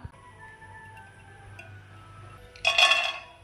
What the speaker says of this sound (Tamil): இப்போ முந்திரி திராட்சை வறுத்துக்கலாம்.